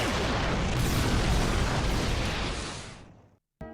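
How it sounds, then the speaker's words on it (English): Loud, sustained explosion effect from a fan-made Super Sentai action scene: a broadband roaring blast that holds for about three seconds, then fades into brief silence before a short burst of another sound. "After that explosion"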